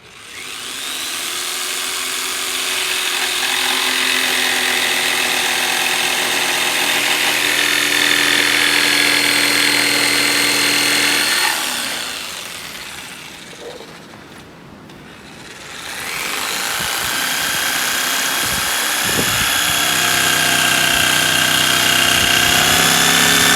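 Power saw cutting a groove into wood for the coping of a homemade skateboard quarter pipe, a loud sustained motor whine with a brief dip midway before cutting resumes steadily.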